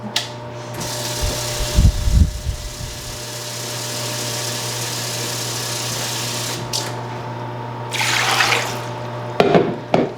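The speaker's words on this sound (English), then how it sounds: "Okay, I'm gonna get some water." Water runs steadily from a kitchen tap, a constant rushing hiss lasting several seconds, with a steady hum and scattered knocks and clatter of dishes at the start and end.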